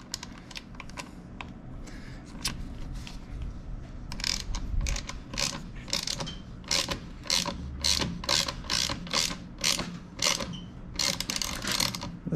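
A 3/8 standard Allen key turns a bolt into an aluminum handguard, giving a run of sharp ratcheting clicks in quick, uneven bursts, close and fairly quiet, with no voices.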